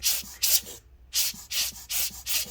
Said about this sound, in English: It's not spinning as smooth as it should.